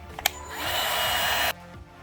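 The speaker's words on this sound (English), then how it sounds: "Now we're gonna use a heat gun." A heat gun blows briefly while melting heat-shrink sleeves on wires in a modified Nerf Rival blaster, a close, steady airy whoosh lasting about a second, cut off sharply after a small click.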